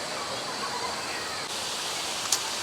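Steady broadband rush of Budo waterfall in Narathiwat, a natural jungle cascade, heard close and continuous with no clear breaks, with a brief sharp tick near the end.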